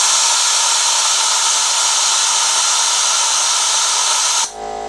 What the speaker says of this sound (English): And now my air compressor kicked on